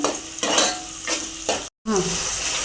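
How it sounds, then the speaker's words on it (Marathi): Mutton is stirred into hot oil with sautéed tomato for a spicy village-style curry, the close sizzle rising in several bursts as the spatula scrapes through, with a short break partway. "तेलामध्ये चांगलं मटण परतून घ्यायचं आहे"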